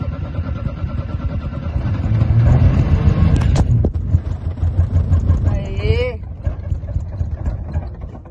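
A Chevrolet Chevette engine runs near at hand, its low rumble swelling as it is revved a little, with dirty fuel reaching it. Voices talk over the engine and a short whistling squeal comes near the end.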